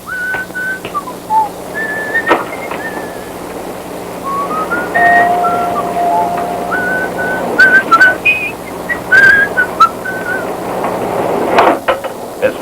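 A man whistles a wandering, playful tune of short sliding notes and held tones, loud and close, with brief pauses between phrases and a faint steady hum underneath.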